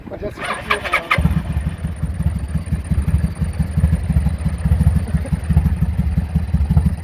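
A Kawasaki VN 800 motorcycle engine, just after an oil pump replacement, idles with a steady, even low thumping throughout, preceded by a brief clatter as it starts up.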